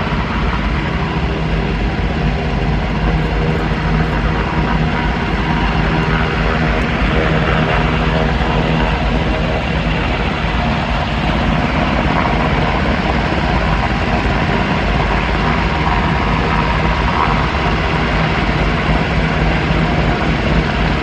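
Helicopter flying at Seafair Fleet Week, a loud, continuous rotor and engine roar that fills the whole stretch without a break, close and steady.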